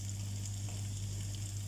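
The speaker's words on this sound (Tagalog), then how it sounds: "Igisa ko siya yung ano, yung may repolyo, tsaka carrots, tsaka yung chicken breast." Cabbage, carrots and chicken breast sautéing in a pan give a steady, close sizzle, with a low constant hum underneath and no voices.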